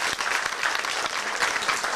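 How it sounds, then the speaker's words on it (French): Steady audience applause at an agricultural fair livestock show, a dense even patter of many hands filling the whole stretch, moderately loud and unbroken. "Je crois qu'on peut encore les applaudir."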